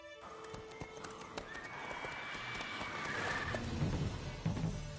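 Geralt's horse Roach from The Witcher 3, heard as a steady rumble of hooves under a soft whinny-like tone, with the galloping growing louder toward the end; no one speaks.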